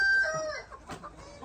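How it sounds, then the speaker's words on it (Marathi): Desi cross-breed chickens on a raised-shed farm, heard close with a sustained crow-like call fading into several short clucks and fowl calls, no talking. "तुम्ही ह्या कोंबड्या बघू शकता"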